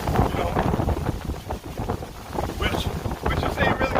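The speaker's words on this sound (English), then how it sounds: "it's just windy, windy as hell right now" Strong wind buffets an outdoor microphone at a campsite, producing continuous loud rumbling gusts that rise and fall throughout.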